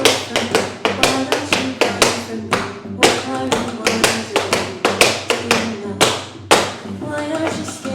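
Tap shoes beat out a beginner routine to a pop song, a quick series of sharp metallic taps and heavier stomps in syncopated rhythm over a quiet pop backing track.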